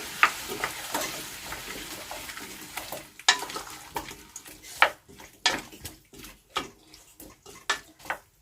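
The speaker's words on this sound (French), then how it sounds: "On mélange." Chopped tomatoes stirred into a pot with saffron for a Réunion-style potato daube, giving irregular close scrapes and clacks of a spoon against the pot over a soft, wet sizzle, with no voices.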